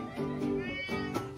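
A pet cat named Muning meows along with music, several drawn-out, tonal meows close to the listener, one rising into a sharper cry near the end.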